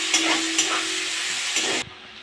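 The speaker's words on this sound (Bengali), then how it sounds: "জিরেটা ভাজা হয়ে গেছে, আমি এবার পেঁয়াজ দিয়ে দেবো।" Onions hit hot oil that already holds fried whole cumin and sizzle loudly, with a few stirring scrapes, for a ghugni. The crackle stays strong and continuous, then cuts off abruptly near the end.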